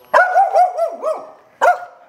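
Several dogs bark loudly and close by at an abandoned bungalow, a quick run of barks followed by a pause and then another sharp bark.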